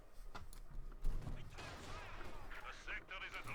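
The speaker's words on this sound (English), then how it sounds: "Mortar, they're firing away." Mortar fire in a Company of Heroes 2 match, dull booming thumps and crackling impacts scattered over a busy battlefield bed, with a voice talking over the action.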